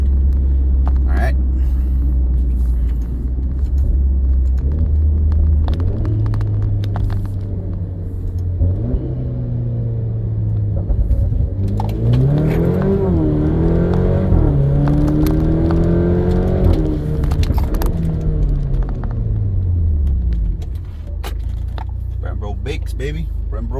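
Alfa Romeo Stelvio fitted with a hybrid turbo upgrade, engine running with a steady low rumble that swells and shifts in pitch midway, as if under load, heard from inside with a person talking throughout.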